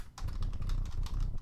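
Close-up typing on a computer keyboard, a quick run of about a dozen light clicking keystrokes in an uneven, busy rhythm, with no other sound.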